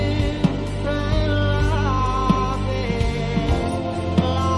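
A cover of a song plays as steady, sustained folk music, with layered tones and soft rhythmic accents at a moderate level throughout.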